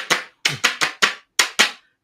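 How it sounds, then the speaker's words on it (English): Handheld plastic clappers struck in a loose run of seven sharp, bright claps with short pauses between, close and clear with no other sound. "get rid of the clappers. I mean, we can't get rid of these, can we?"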